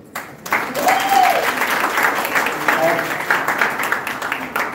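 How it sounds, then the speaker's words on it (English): Steady, full applause rolls through an audience at a company's 2022 annual day celebration, sustained for several seconds with a few voices rising over it. "a round of applause to all of you"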